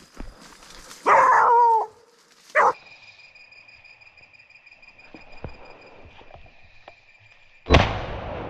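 A pig-hunting bailing dog barks once and then again a moment later, sharp and fairly close. Quieter rustling and a steady tone follow, then a loud noisy burst at the end.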